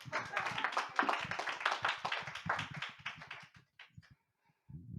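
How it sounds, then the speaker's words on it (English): A room of people at a Sunday service at a spiritual living center applauds in a dense burst of clapping for a guest. The applause fades out toward the end and gives way to a few stray sounds. "Another big round of applause for Joe."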